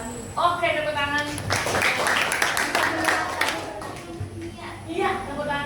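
Students in a chemistry classroom break into short rounds of clapping, scattered bursts of hands mixed under a teacher's and children's ongoing speech.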